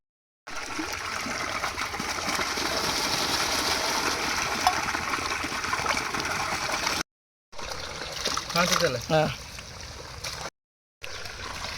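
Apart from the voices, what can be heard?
washing turkey chicken with water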